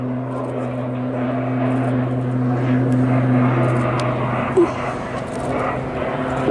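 Propeller-driven RAF Tucano flying an air show display at Southport, a steady engine drone with strong low harmonics carrying throughout, moderately loud and continuous with faint background crowd noise.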